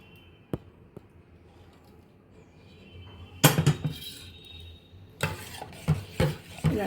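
A spoon scrapes and clinks in a bowl, mixing a dessert of bread, sago and milk, in two short bursts of stirring after a quiet stretch with a couple of faint taps.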